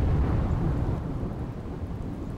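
Heavy downpour in the Pavagadh hills, a dense, steady roar of rain with deep rumbling low end, loud and unbroken throughout.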